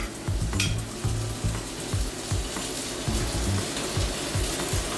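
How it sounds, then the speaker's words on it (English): Steady, loud sizzling of chicken frying in a hot cast iron pot, with a continuous crackling hiss and occasional soft stirring knocks, no voices. "And as you can hear, you have a little bit of sizzle,"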